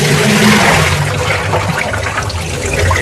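Water pouring and rushing steadily while wheat grain is washed in a kitchen, a loud continuous splashing flow heard close up.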